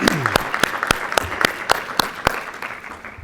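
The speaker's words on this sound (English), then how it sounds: "let's give them a round of applause" Sparse applause from a small audience honouring guests, a handful of sharp, fairly loud claps in an uneven rhythm that soon fades, with a brief voice at the start.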